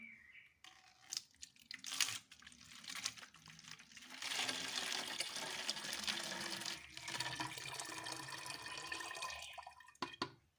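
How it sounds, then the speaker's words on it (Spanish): Water is poured from a container into a small bottle for watering African violets, a close, fairly quiet gurgling trickle that runs steadily for several seconds between a few clicks and handling sounds. "Ahora esta agua la vamos a llevar a esta botellita para poder hacer un riego."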